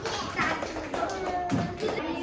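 Kindergarten children clap during an English class in China, a few quick taps and claps close by, with a teacher's and children's voices mixed in.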